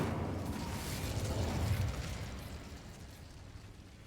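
Incendio fire spell cast in Hogwarts Legacy, a soft whooshing burst of flame that swells then fades into a low rumbling crackle, fairly quiet.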